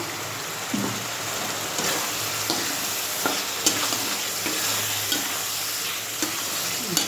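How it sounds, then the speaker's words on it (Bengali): Meat is sautéed in a pan, a steady loud sizzle with a spoon scraping and stirring at irregular intervals, with no talking. "মাংসটা কষানো হোক।"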